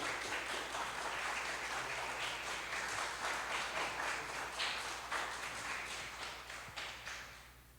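Church congregation clapping in praise during a healing and deliverance service, a steady dense patter of many hands filling the room, fading slightly toward the end with no voices over it.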